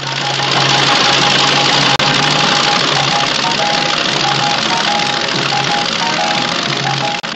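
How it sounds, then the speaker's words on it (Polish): A Polish agricultural aircraft engine drones loud and steady while spreading artificial fertilizer, a continuous throbbing roar held throughout with no voices. "Teraz sezon na rozpylanie nawozów sztucznych. Samolot wykonuje pracę kilkudziesięciu ciągników i maszyn rolniczych."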